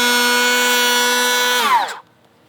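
A DeWalt cordless planer running on a treated wooden deck joist, a steady loud motor whine that drops in pitch and winds down to silence near the end.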